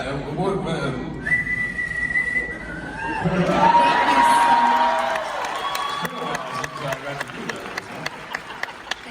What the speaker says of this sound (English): I would love to hear you whistle.